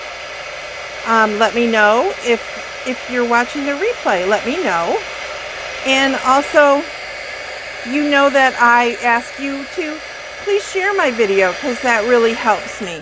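A loud heat embossing tool blows steadily through the whole stretch, a constant whooshing roar under someone talking to viewers.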